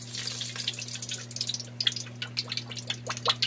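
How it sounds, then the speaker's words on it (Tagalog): Cooking oil trickles and patters into a pan being heated for deep-frying pork, a close, fairly quiet stream of fine splashing drops over a low steady hum. "Lalagyan ko na ng oil,"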